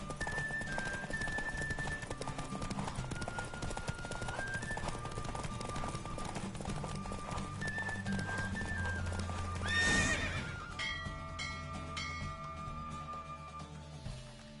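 Rhythmic hoofbeats of a galloping horse with a whinny, set against synthetic game music with bright electronic tones; a swell of noise rises midway.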